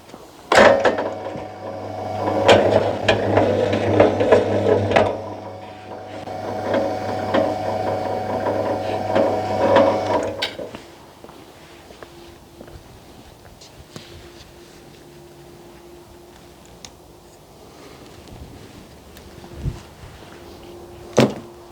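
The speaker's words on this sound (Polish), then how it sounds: "Teraz zobaczmy jak maszyna rozetnie kabel 16 kwadrat w drucie" A cable stripping machine cuts through 16 mm² wire cable with a loud mechanical whirring and grinding for about ten seconds, then stops abruptly, leaving quiet room tone with a low hum and occasional small clicks.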